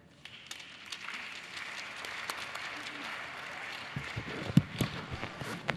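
Audience applause at a speaking event, faint and distant, a steady patter of clapping that swells slightly near the end.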